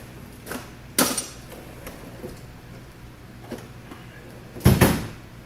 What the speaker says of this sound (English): that's the pneumatics drawer, which won't close for whatever reason